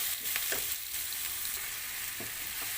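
Tomatoes cooking in a pan for paneer butter masala, a steady soft sizzle and frying hiss with a few light stirring clicks, close and continuous with no talk.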